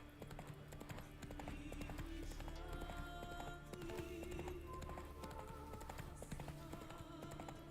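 Roach the horse gallops in The Witcher 3 with rapid, even hoofbeats that drum steadily and close against a layer of game music, and no voices.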